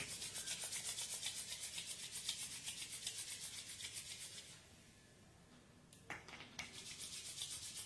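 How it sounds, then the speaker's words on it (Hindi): Palms rub together briskly in a quiet yoga session, a close, rhythmic, dry swishing that pauses briefly and then starts up again. "हाथों को धीरे से रब करेंगे अच्छे से।"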